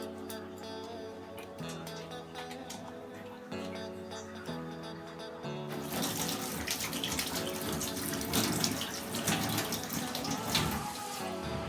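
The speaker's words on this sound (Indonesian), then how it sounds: "Selanjutnya mencuci tangan 6 langkah menggunakan sabun dan air mengalir." Hands being washed with soap under a running tap in a clinical setting, a steady rush of water that grows louder and fuller as the hands move in the stream, with no talking.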